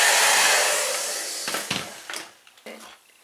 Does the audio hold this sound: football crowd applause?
no